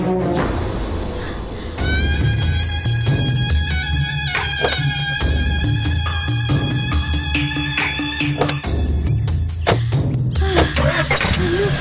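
A car engine cranks and catches, then runs and pulls away in a Tamil serial scene, loud and close, with the steady engine note filling the whole stretch alongside some clatter.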